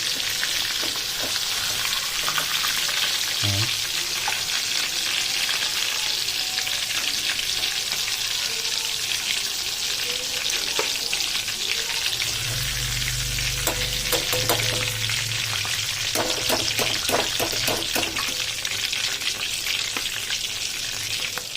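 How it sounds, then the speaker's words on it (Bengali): Loitta (Bombay duck) fish in a butter fry sizzles steadily in a pan at close range, a long unbroken hiss with soft spatula scrapes and light taps partway through, no speech. "আমার দেখুন লোটে মাছের বাটার ফ্রাই রেডি, ফ্রাই হয়ে গেছে"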